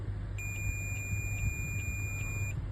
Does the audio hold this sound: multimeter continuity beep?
yes